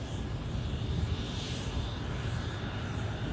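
A Boeing F-15QA fighter jet of the Qatar Emiri Air Force flies at the Farnborough Air Show with its gear down, a broad continuous roar that stays loud and steady throughout.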